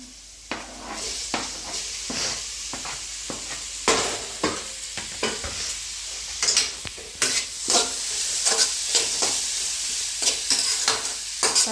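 Tomatoes hiss and sizzle loudly in a hot oiled pan while a spoon stirs them, its scrapes and knocks landing irregularly over the constant frying crackle.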